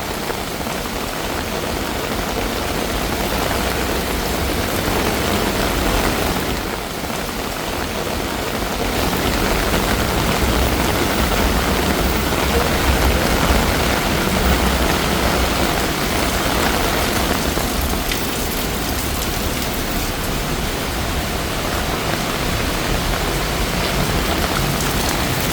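Heavy rain pours steadily on a Bangkok street in the rainy season, a dense, loud hiss of drops drumming on surfaces that holds almost unbroken for the whole stretch, with a low background rumble and no talking.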